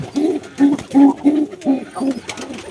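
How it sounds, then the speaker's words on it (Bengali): A foster pigeon coos in a village loft in a rapid series of about six deep, rolling bursts, near and loud, with no talk over it. "এটা আমার একটা ফস্টারিং কবুতর"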